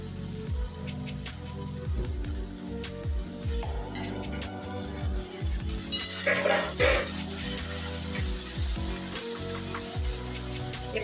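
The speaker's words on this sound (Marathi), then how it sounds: "त्यामुळे थोडंसं पाणी टाकते परत मी।" Water splashed into a pan of sizzling spring onion bhaji (zhunka), producing busy crackling and popping bursts that flare up midway, close and moderately quiet, with no talking.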